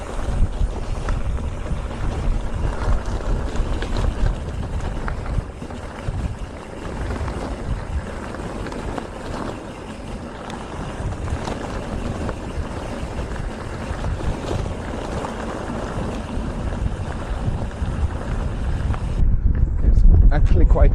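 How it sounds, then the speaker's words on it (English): Wind buffets a microphone on an exposed mountain road in the Atlas Mountains, a steady loud rumbling roar that gusts throughout and swells louder near the end. "Actually quite windy up here, and that's super refreshing."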